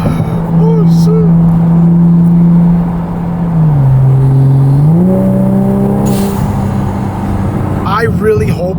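A 2020 Toyota Supra MK5 with a B58 turbo engine, HKS blow-off valve and aftermarket exhaust drones and shifts pitch as it accelerates, heard from inside the car with people talking over it.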